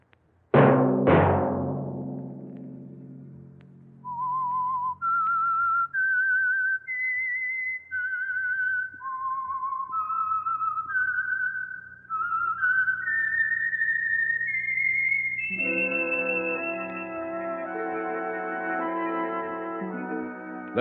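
A sharp two-note whistle opens the Whistler radio program theme, then a clear whistled tune rises step by step in bright, sustained notes, ending on a long held tone.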